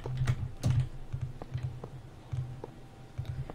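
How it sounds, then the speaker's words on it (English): Clicky keystrokes on a computer keyboard close to the microphone, irregular bursts of typing with brief pauses, loud and alone without talk. "Zach, can you hear my keyboard?"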